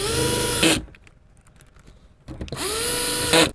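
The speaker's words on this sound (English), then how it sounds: "I have my drill driver set to a light torque, and then I'll finish them off with a regular screwdriver." Cordless drill driver set to light torque drives screws while installing a keyless keypad lock on an RV door, two loud whirring bursts separated by a quiet pause, close up.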